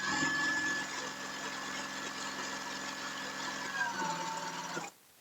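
A sewing machine runs a continuous straight stitch on dress fabric. Its steady, humming motor whirrs evenly for about five seconds and then stops abruptly, close and fairly quiet, with no voices.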